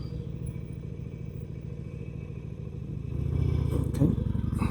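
A Harley-Davidson Sportster motorcycle being ridden gives a steady low engine drone with road and wind rumble that swells louder near the end.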